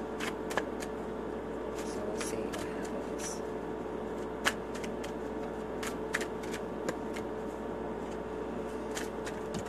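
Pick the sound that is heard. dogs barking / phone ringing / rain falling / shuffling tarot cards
shuffling tarot cards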